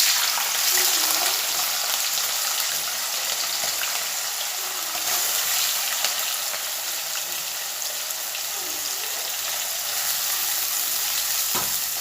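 Pieces of shark fish fry in hot oil with a continuous, even sizzle and crackle, close and steady from start to end.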